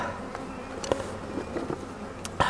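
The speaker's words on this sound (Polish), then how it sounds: "Pszczoły noszą miód, widzicie?" Honeybees buzz steadily around a hive, a constant droning hum with occasional louder passes close by.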